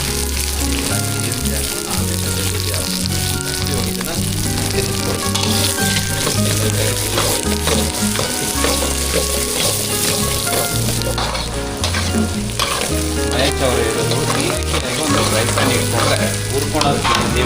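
Garlic frying in a pan for a tomato chutney, a loud, unbroken sizzle with stirring, running for the whole stretch beneath background music.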